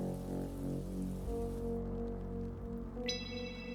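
Rain in the video game Wake Up, Hollow Man: a steady, soft patter beneath sustained musical tones, dropping away partway through while the music carries on.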